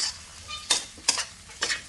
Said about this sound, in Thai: จากนั้นก็ผัดต่อค่ะ